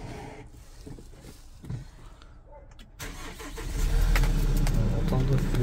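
A 2022 Kia Bongo tow truck with a 2.5-litre diesel engine is started. After a quiet, rustling stretch the engine catches with a sudden crank, then settles into a loud, steady, close diesel idle.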